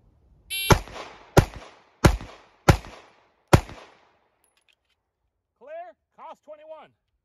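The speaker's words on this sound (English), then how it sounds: "COS21 V10 ported, left target, 5 shots, head box." Five sharp, loud pistol shots from a ported Cosaint Arms COS21 V10 crack out at a steady pace, each with a short ringing decay, followed by a shot-timer beeping.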